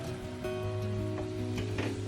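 Sugar syrup for rava laddu bubbles in a pan with a steady close sizzle. Soft stirring noises run under it, and no one speaks.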